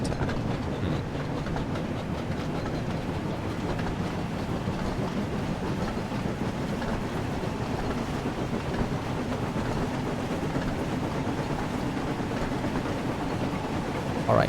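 Steady rumbling run of the mail train from a Thomas and Friends game on Sodor, a continuous rolling drone with faint clickety-clack, moderately loud and unbroken with no talk.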